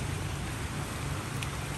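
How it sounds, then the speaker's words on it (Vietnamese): Heavy tropical rain pours steadily onto surfaces in an even, dense hiss, close and continuous throughout with no voices over it. "Mưa ngày càng lớn luôn."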